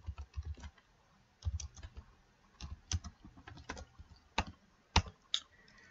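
Typing on a computer keyboard while building a PowerPoint slide: bursts of close, crisp key clicks in short runs, with pauses between them and a few sharper single taps like the Enter key, no voices.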